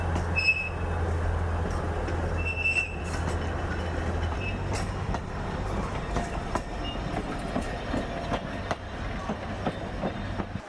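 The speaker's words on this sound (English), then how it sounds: "Train is coming behind us." An Alishan forest railway train rumbles steadily with a low engine hum and rolling rail noise, with occasional faint wheel squeals and clicks, moderately loud and continuous with no talk.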